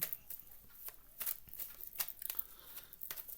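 Tarot cards shuffled by hand in a quiet room, a run of soft crisp riffling bursts and slaps in an irregular rhythm, close and faint with no talking.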